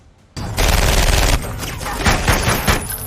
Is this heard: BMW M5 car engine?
no